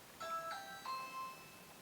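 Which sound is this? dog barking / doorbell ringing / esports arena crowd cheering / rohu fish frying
doorbell ringing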